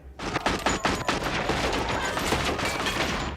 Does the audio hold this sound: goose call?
no